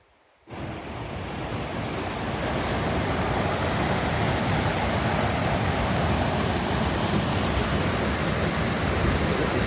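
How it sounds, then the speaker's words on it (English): Kennedy Creek on the Pacific Crest Trail rushes loudly and continuously, a dense roar of fast water that swells in after a quiet first half-second and fills the whole stretch with no voices. "This is Kennedy Creek, and that is a super sketchy crossing"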